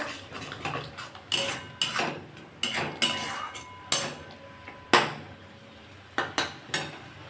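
Turmeric spice masala stirred and fried in a pan for katla fish curry, a series of sharp metallic spoon knocks and scrapes against the pan at uneven intervals, close and clear over a faint hiss.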